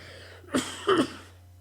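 Two short coughs, close and fairly loud, about a third of a second apart, followed by quiet room tone.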